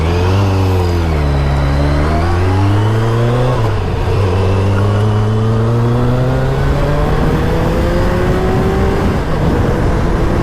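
A 1988 Kawasaki ZX10 motorcycle pulls away hard from a traffic light, its engine loud and close, revving up through the gears with a rising pitch, a brief dip at a gear change, then climbing again.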